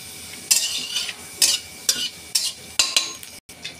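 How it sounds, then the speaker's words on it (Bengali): Whole cumin seeds fry in hot oil in a wok, a steady bright sizzle punctuated by repeated scraping stirs of a utensil against the pan, close and fairly loud. "এখানে কড়া বসিয়ে দিয়েছি, তেল গরম হয়ে গেছে, গোটা জিরে ফোড়ন দিলাম"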